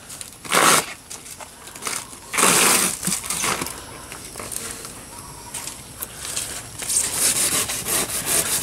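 A freshly sharpened machete hacks at a banana plant in Mindanao, giving several sharp, close chopping and rasping strikes in irregular bursts with no talking.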